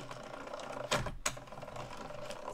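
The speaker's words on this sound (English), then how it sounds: "this is absolutely a job for my little mini die cut machine. And let's send that right on through." Small mini die cut machine feeding cardstock through its rollers, a steady mechanical whir and grind with two brief sharper clicks midway; close, no voices.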